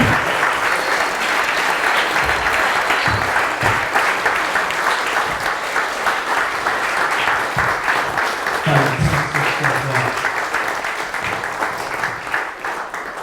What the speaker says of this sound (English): So can everyone give a huge round of applause